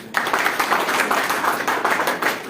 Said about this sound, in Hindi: इनके नाम पर ताली हो जाए